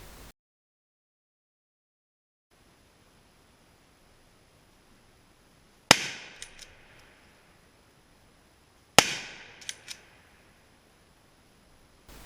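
Two sharp rifle shots fired at wild boar during a hunt, about three seconds apart, each a loud crack followed by a short echoing tail, with near silence between.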